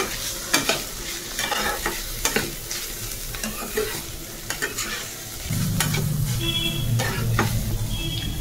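Paneer and spices stirred in a hot frying pan, repeated sharp spatula scrapes and taps over a constant sizzle, close and fairly loud, with a low hum joining partway through.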